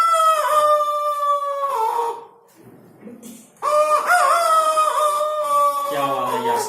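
A man imitates a village rooster with his voice, sending out two long, loud crowing calls split by a short quiet gap, the second call wavering and ending in clucking-like sounds, close to the microphone.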